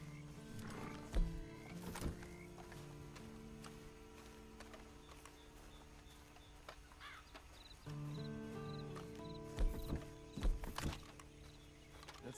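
A horse in the Western video game Red Dead Online, with heavy thunking hoof impacts and snorting bursts over a steady ambient game music bed, several loud hits clustered near the start and again toward the end.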